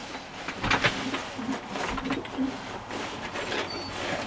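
Racing pigeons, a keeper's good-quality coloured birds, coo softly in a loft, with repeated low murmuring calls over a steady background.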